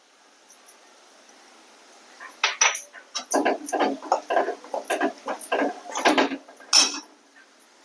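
Spoon scraping and clinking against a cooking pot while stirring garam masala and spices into a chana dal curry, a run of close, irregular metallic scrapes and taps after a quiet start.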